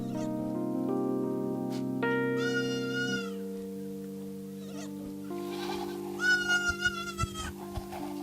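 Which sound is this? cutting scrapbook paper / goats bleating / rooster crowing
goats bleating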